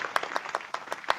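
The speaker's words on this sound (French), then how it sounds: "Vas-y, fais les applaudissements." An applause sound effect played on a web TV broadcast, quiet and brief with a few distinct claps standing out rhythmically over a faint clapping bed.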